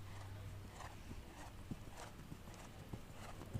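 A horse canters through a dressage test in an arena, its hoofbeats coming as faint, soft rhythmic thuds beneath distant background noise and quiet commentary.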